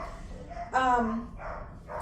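A dog at a humane society bursts into a single loud, harmonic bark or yelp near the mic, set against quiet room noise and faint talk.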